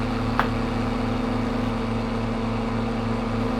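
A liming tractor engine in the video game Farming Simulator 22 idles steadily, a low, even mechanical hum that holds unchanged throughout with a single faint click near the start.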